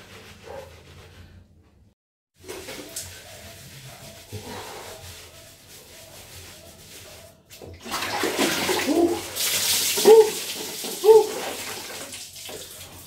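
Cold water splashes and sloshes in bursts while someone bathes, with louder splashing and scrubbing near the end, after a quiet opening; faint low hum underneath.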